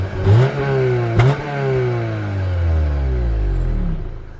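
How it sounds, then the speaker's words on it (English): A Honda Accord Euro S with its stock exhaust revs up once, then a second quick blip, before the engine note sweeps smoothly down and settles, loud and close with no talking. "have a listen to my very average sounding stock exhaust on my Accord"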